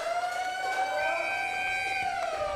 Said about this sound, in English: First siren sounds.